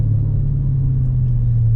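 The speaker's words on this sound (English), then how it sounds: "Going over a railroad track." A 2009 Dodge Challenger R/T rolling over a railroad track, heard from inside as a steady loud low rumble of engine and road noise without distinct jolts.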